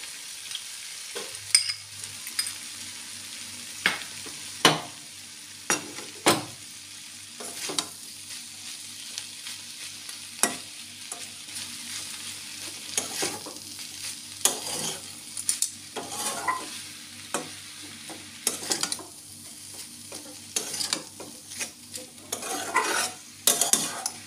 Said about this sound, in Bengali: এবার এর মধ্যে সর্ষে বাটা, নারকেল কোড়া মেশাবো।